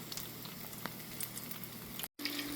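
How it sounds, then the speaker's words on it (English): Steady, fine crackling sizzle of breaded flounder nuggets frying in hot oil, close and continuous, with a brief dropout near the end. "we're going to go right into the oil, get that beautiful sizzle"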